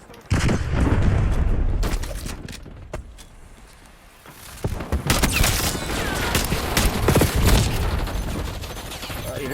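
Pistol gunfire in Black Ops 6, a run of loud, sharp shots and booming blasts that fire in close succession over steady game noise, with no talk over it.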